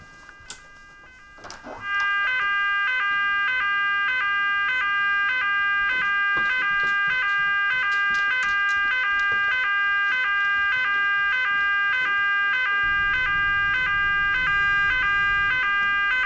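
A loud electronic alarm siren wails continuously with a steady repeating pattern, starting after a few quiet seconds and holding strong to the end.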